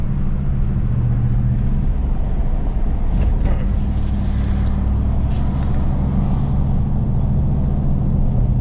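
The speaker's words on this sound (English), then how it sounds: "Truck's running a little iffy this morning." Rough idle of a pickup truck engine, a loud, steady low rumble running throughout, heard close from inside the cab with faint higher rattles partway through.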